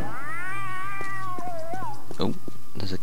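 A cat in a video game gives a drawn-out, wavering meow that bends downward and is then followed by a short chirp and a few clicky game noises.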